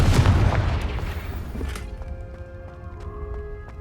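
A loud booming blast from the Confringo explosive spell in Hogwarts Legacy, one heavy close explosion that rolls off into a fading rumble with faint tonal hum after.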